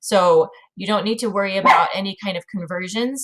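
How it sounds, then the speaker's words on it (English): A dog barks and yips in the background of a home recording, short sharp calls mixed under a person talking close to the microphone. "Sorry, that's my dog in the background."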